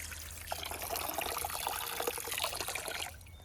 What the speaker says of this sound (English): So water goes down by gravity, and then here it is. I just fill this up